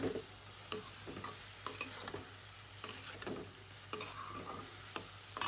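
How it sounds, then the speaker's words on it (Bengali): Potatoes being sautéed with spices in a pan, a steady soft sizzle with repeated scraping stirs and spoon taps at irregular intervals, close and fairly quiet, no talking. "এটাও কষিয়ে নিতে হবে মশলার সাথে"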